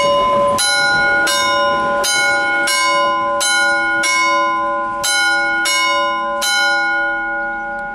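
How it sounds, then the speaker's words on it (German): An old Prussian-type railway signal bell at a railway museum strikes loudly and evenly, about eight ringing metallic clangs in a steady rhythm, each decaying into the next, with no talking over it. "Das ist so ein altes Leutewerk davon."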